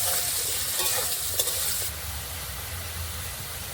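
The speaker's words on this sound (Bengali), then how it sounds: "নুন হলুদটা দিয়ে ভালোভাবে ভেজে নেব।" Potato pieces fry in oil with salt and turmeric, a loud crackling sizzle with stirring that drops to a softer, quieter hiss about halfway through.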